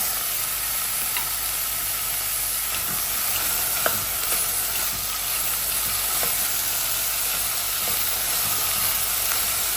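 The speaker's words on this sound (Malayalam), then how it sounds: "ഇനി ഈ സവാളയിലേക്ക് നമുക്ക് ചെറുതായിട്ട് കട്ട് ചെയ്ത് വെച്ചിട്ടുള്ള കടച്ചക്കയും കൂടി ചേർത്ത് നന്നായിട്ട് മിക്സ് ചെയ്തെടുക്കാം" Chopped breadfruit stirred into onions frying in a pan: a continuous close sizzle and hiss with scattered small clicks and scrapes of the spoon throughout, no voices.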